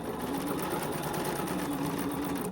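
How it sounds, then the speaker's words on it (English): Sewing machine backstitching a seam on an easy quilt block, a steady close mechanical whir and rapid needle chatter running continuously without a break. "I am going to backstitch when I start and when I end"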